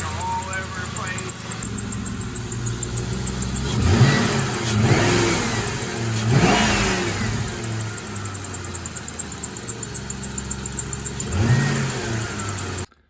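A Ford Mustang GT V8 rumbles along, swelling with several revs before settling back to a steady idle, while someone speaks over the engine throughout.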